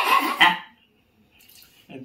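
A human voice imitates an old, weak dog straining to bark, producing two short, hoarse, breathy yelps close up, followed by a near-silent pause and a faint rasping attempt at the end.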